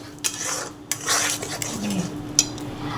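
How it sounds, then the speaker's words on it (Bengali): A spoon scrapes and clinks against a pan while turmeric and salt are stirred in for mutton curry, with several sharp metallic taps over a steady low background. "এখানে দেখো হলুদ আর নুনটা দিয়ে আমি একটু নাড়িয়ে দিচ্ছি"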